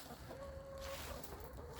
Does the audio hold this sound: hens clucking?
yes